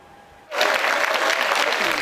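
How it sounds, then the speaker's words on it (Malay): A studio audience at Mediacorp in Singapore suddenly bursts into loud cheering and dense clapping after a quiet moment, a sustained close wash of applause. "Keriuhan sorakan dan tepukan para penonton kembali memeriahkan suasana di studio Mediacorp"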